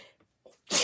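A woman sneezes once, sharp and loud, after a couple of faint inhaled breaths and a soft vocal catch.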